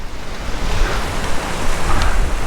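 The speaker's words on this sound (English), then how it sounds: "Wow, it's windy today" Strong wind blows outdoors on a street, a steady loud rush buffeting the microphone with low rumbling gusts.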